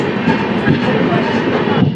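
Pamban Express passenger train running at about 110 km/h near Thiruthuraipoondi Junction, a steady loud rumbling roar of wheels and carriage noise throughout, close and continuous.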